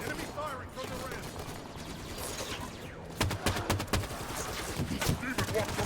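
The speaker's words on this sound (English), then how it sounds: "Enemy firing from the rim!" Halo 5 enemy gunfire, a long stretch of rapid automatic shots with sharp bursts clustering toward the end, moderately loud over a constant game background with voices talking at times.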